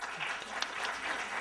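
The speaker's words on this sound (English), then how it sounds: "let's give a round of applause and welcome Dr. Skip Lenz." Conference audience applauding as a speaker is welcomed to the stage, a steady patter of many hands clapping at moderate distance, fairly soft and even throughout.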